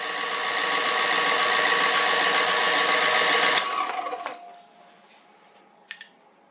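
A Giraud trimmer cuts a cartridge case with a loud, steady whirring buzz that runs for several seconds, then winds down, followed by a couple of small sharp clicks.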